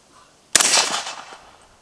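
A .300 Blackout or VSS Vintorez suppressed rifle shot, a single sharp loud crack with a short decaying tail, at close range around a steel target.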